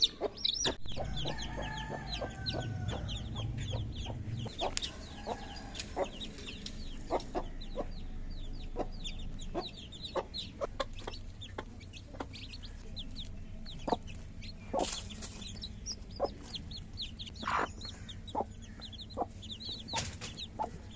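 Hen with her young chicks, soft clucks and thin high peeping scattered throughout at moderate distance, over faint background noise with no talking.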